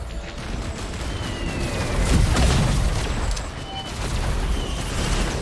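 Grenade blasts in the video game Risk of Rain 2, a muffled boom swelling midway over a busy, noisy game mix without any talk.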